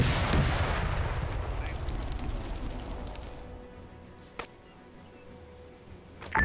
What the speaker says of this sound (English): Mortars, start giving us smoke cover as well, over.